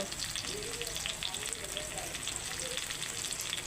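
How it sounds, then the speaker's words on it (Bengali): Spice masala of turmeric, chilli, cumin and coriander powders frying in a pan for a rohu fish curry with potato and cauliflower, a steady close sizzle with faint stirring throughout. "এবার আমি মশলাটা ভালো করে কষাতে থাকবো"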